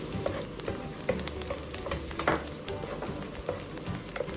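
Chopped onions and garlic fry and sizzle in hot oil while being stirred for a bulgur and green tomato dish, a steady close crackle with scattered louder pops and scrapes.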